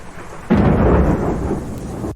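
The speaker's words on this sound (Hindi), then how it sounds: "तेज बारिश, बिजली कड़कती है।" A sudden, loud crack of thunder breaks in and rolls on as a heavy rumble, with dense rain hissing beneath it.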